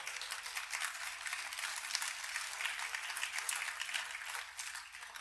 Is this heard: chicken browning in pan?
no